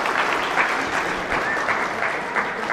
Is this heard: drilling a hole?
no